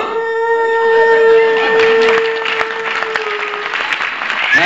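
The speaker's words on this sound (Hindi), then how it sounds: "सब मिलकर कथा तालियां बजा दीजिए" Applause from a live audience at a Shakil Siddique stand-up comedy show in Spain, a dense steady burst of clapping with some crowd noise, lasting several seconds and slowly thinning toward the end.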